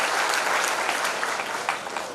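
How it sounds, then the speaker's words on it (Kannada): Audience applause at a Yakshagana celebration event in Mangaluru, broad and continuous clapping from a large crowd, steady and moderately loud from start to finish. "ಈಗ ಚಪ್ಪಾಳೆ ತಟ್ಟಬೇಕಾದದ್ದು ನೀವು ಶ್ರೀಮತಿ ಶೈಲಾ ದಿವಾಕರ್ ಅವರಿಗೆ."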